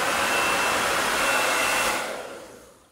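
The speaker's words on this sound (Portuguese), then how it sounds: "agora eu vou ligar o meu secador" A hair dryer fitted with a diffuser cap roars steadily and loudly with a broad airy rush, then tapers off and fades in the final second as it cuts out.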